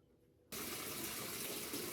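Tap water suddenly gushes into a washing machine after a brief quiet moment, then runs as a loud, steady rushing stream.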